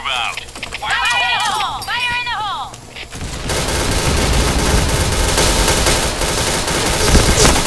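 Heavy, continuous automatic gunfire from the shooter game Point Blank, loud and dense, starting after a few seconds of whooshing game effects and chirpy sounds, with a voice speaking under the noise.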